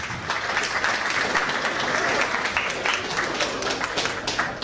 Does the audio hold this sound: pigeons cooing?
no